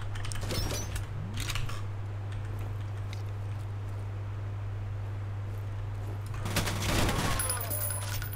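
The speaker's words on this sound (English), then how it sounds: "that's HV penetrator rounds" Sharp bursts of HV penetrator rounds in F.E.A.R., Water Treatment Plant level, a few clustered shots early and a heavier burst near the end over a constant low hum.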